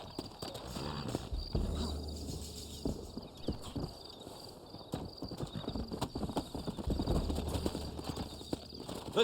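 Horse hooves clip-clop steadily across the ground in the Red Dead Redemption video game, with a brief whinny, several horses moving together under ongoing game ambience and effects.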